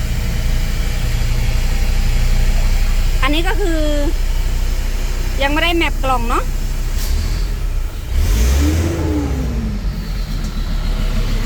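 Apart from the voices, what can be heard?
car engine idling and revving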